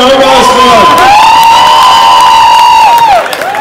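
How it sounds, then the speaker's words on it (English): A crowd of children and parents at a school gig cheers loudly for a mother called forward, with sustained high whoops and shouts close by that fade out at the end. "Let's have an applause for her."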